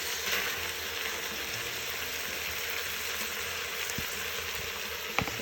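Marinade poured into a pot of browned pork for pulled pork carnitas sets off a steady, soft, broad sizzle and crackle, close and continuous with a few small clinks.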